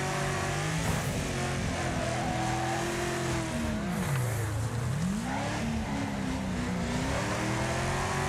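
Race cars in the Wreckfest racing game roar steadily close by, engines revving and dipping in pitch as they shift and pass, with a continuous loud drone throughout and no talk.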